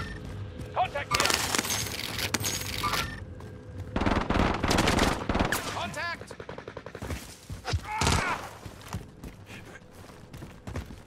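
Bursts of automatic and single gunshots in a Call of Duty: Modern Warfare firefight, loud and close, with rapid volleys separated by short pauses as voices talk over the shooting.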